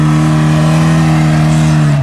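A Moskvich 412 engine runs at an off-road event. It holds a loud, close, steady revving drone for a couple of seconds, with no voices.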